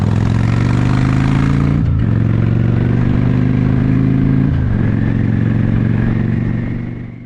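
A Honda Shadow VT750C4 motorcycle idles steadily after a DynoJet Stage 1 carburetor rejet, its loud, even V-twin rumble dipping briefly twice as the throttle is blipped, then fading slightly at the end.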